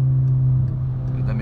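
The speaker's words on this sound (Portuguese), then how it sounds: "Vou dar uma reduzida, ele vai jogar o giro lá em cima" A car engine holds a steady, loud, high-revving drone right after a downshift, close by with a slight wavering toward the end. Someone talks over it.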